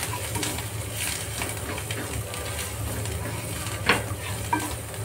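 Vada pav masala with turmeric, salt and coriander being stirred in a pan, a steady scraping stir over a soft continuous sizzle, with a couple of sharper clinks of the spoon near the end.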